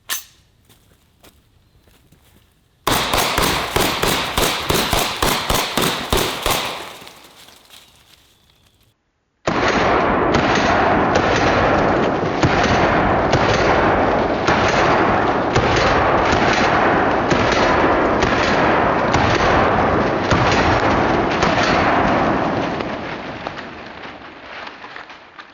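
Fully automatic bursts from a British Sterling SMG fired outdoors at watermelons, loud and close: a short burst, a few seconds of quiet, then a sustained rapid string of shots lasting over fifteen seconds.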